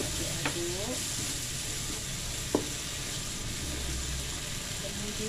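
Spices and seasonings with salt, sugar and stock powder cook in a pan for fish curry while being stirred, a steady sizzle broken by a few scraping clicks of the spoon against the pan, close by.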